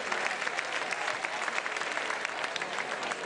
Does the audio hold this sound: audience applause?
yes